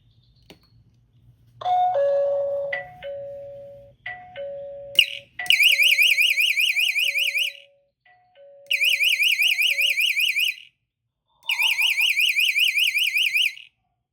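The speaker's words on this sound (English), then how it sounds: "go with one on the outside with a security siren as well" Beeps and tones lead into three loud bursts of a warbling electronic alarm siren, each lasting a couple of seconds with brief silent gaps between.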